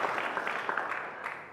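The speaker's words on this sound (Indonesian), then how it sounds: "Tepuk tangan dulu buat pesantren." Applause for an Islamic boarding school during a religious gathering, a short, soft burst of crowd clapping that fades out within a couple of seconds, fairly distant and without speech.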